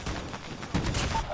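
Desert Eagle pistol fire in a first-person shooter video game, a rapid burst of sharp shots clustered together with a second volley near the end, loud and close with no talking.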